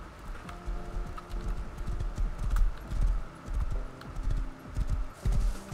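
Horse hooves clip-clop steadily in the survival game Rust, a close, loud, rhythmic run of hoofbeats that keeps going throughout, with no voices over it.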